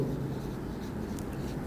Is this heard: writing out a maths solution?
yes